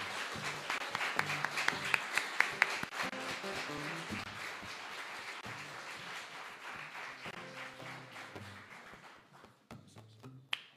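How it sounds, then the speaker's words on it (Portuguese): A burst of congregation applause in a large church service room, steady clapping that slowly thins out, with music playing softly underneath. "Uma salva de palmas para Deus por essas vidas."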